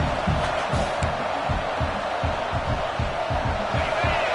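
Simulated stadium crowd in a college football video game, a loud constant roar with rhythmic low thumping pulses running through it.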